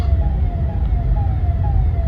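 A distant ambulance siren wails faintly in a slow repeating rise and fall, almost buried under loud, rumbling traffic noise on a road toward Malad.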